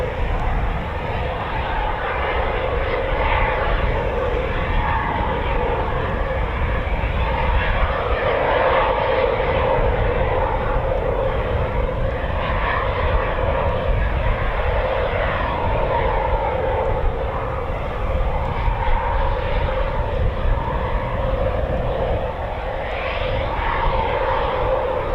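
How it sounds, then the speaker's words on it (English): A Eurofighter Typhoon FGR4 jet taxiing at RAF Coningsby, its engines giving a steady, loud droning whine with a broad low rumble that holds unchanged throughout. "we do have Typhoon just taxiing"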